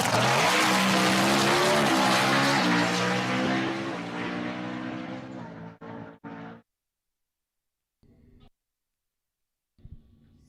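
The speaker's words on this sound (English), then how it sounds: "that high whining gear jamming Mustang in the right lane" Mustangs launching at Empire Dragway during a drag race, one with a high whining gear-jammed transmission, roar loudly with layered harmonic engine and gear whine, then cut off abruptly and leave silence broken by short distant engine bursts.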